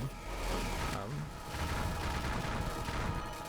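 Dense missile barrage from the shoot-'em-up Devil Blade Reboot, a continuous loud roar of rapid gunfire-like bursts and explosions with a low rumble, sustained throughout without pause.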